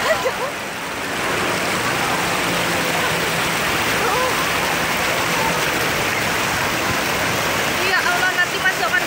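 Flood water from the overflowing Deli river in Medan rushes in a steady, loud roar like a stream or waterfall, continuous throughout with no clear talk.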